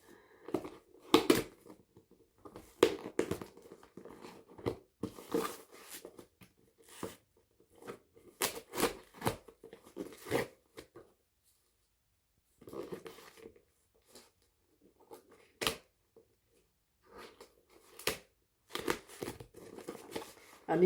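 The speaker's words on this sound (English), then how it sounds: "Use my scissors to get through the sellotape." Scissors snip and tear through sellotape on a light parcel, a run of sharp crinkling crunches and rustles in irregular bursts with short quiet gaps, close and fairly loud.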